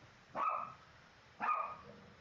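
Chihuahua barking indoors, two short sharp yaps about a second apart, fairly near and clear over quiet background.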